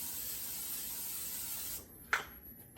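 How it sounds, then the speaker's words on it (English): Steady hiss of cooking spray for nearly two seconds into an air fryer, cutting off abruptly, followed by a short sharp burst of sound. "So I'm just gonna spray up in here."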